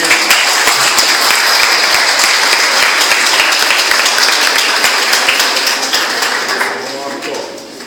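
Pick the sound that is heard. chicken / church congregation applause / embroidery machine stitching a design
church congregation applause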